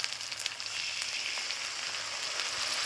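Spice paste and ground chili sizzle steadily in hot oil for an eel curry, a continuous close crackling hiss with faint scattered pops and no voices.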